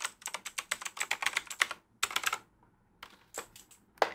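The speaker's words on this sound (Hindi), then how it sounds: "और मैकेनिकल कीबोर्ड है।" An ANT Esports MK3400V2W mechanical keyboard clacks under fast runs of keystrokes. Crisp, close taps come in dense bursts, followed by a pause and a few scattered presses.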